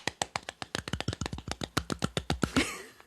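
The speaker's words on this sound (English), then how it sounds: "Claps." A quick run of about twenty sharp hand claps, close and crisp, coming in a fast, slightly uneven rhythm before a brief rustle at the end.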